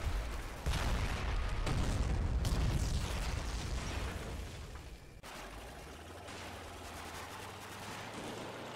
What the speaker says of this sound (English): call in more 81mm mortar support on the highway objective